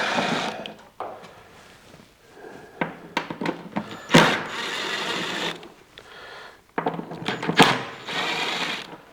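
Screws being backed out of the cowl panel on a classic car, heard as bursts of close whirring from a driver with short clicks and rattles, separated by brief pauses, with no talking.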